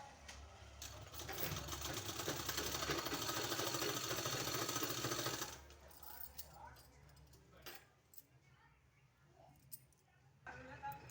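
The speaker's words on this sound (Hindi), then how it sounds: "तो हम दोस्तों इस तरह से हमको सिलाई कर लेना है।" A sewing machine stitches a fabric strip into a cord, running in one steady, fairly loud burst for about five seconds before stopping, followed by quieter handling noises.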